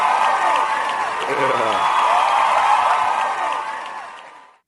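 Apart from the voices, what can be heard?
audience applause for a debate guest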